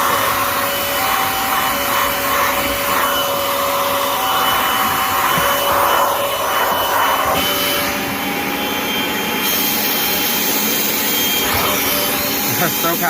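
A Kirby Avalir 2 vacuum cleaner runs on stairs with the airflow open, a loud, steady, close roar with a shifting whine that holds throughout.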